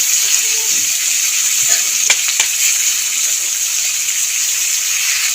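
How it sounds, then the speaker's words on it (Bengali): Flat green beans (sim) fry in a pan with spices, producing a loud, steady hissing sizzle close up. A couple of faint clicks from stirring sound through it. "সিমটা নেড়ে ছেড়ে মোটামুটি ভাজা হয়েই এসছে।"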